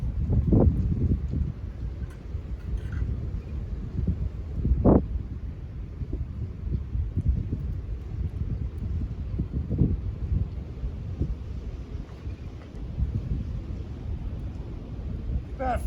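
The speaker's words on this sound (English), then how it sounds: "The wind's blowing this way, so it keeps me warm." Steady wind blows outdoors on a chilly day beside a fire, a broad continuous rumble with a few stronger gusts and buffets near the microphone, heard alone.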